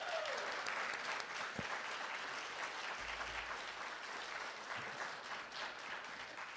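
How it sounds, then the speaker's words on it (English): Sustained audience applause at a library renovation presentation, dense steady clapping from a sizable crowd lasting several seconds without a break. "and that deserves a round of applause."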